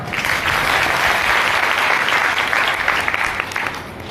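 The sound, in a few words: loud applause from the ashram audience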